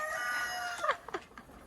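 A farm rooster named Othello crows once, a short, bright, strained call rising out of quiet yard background noise, fairly close and alone.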